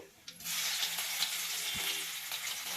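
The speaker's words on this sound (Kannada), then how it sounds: "ಬೆಳ್ಳುಳ್ಳಿ, ಸ್ವಲ್ಪ ಎಣ್ಣೆಲಿ ಬೈಲಿ ಅವು" Crushed ginger and garlic sizzle steadily in hot oil in a pan, a continuous close frying hiss with a few soft clicks of stirring and no voices.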